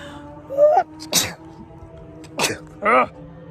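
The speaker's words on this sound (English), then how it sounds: "I'm going to sneeze." A person sneezes twice up close, each sneeze preceded by a sharp vocal intake, in an otherwise quiet room.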